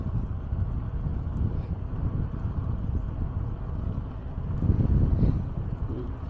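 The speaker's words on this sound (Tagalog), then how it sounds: "Mahangin ah. Naririnig nyo pa ba ako?" Wind gusts over a lake at Legacy Park, buffeting the microphone with a steady low rumble that swells briefly toward the end, with no talk.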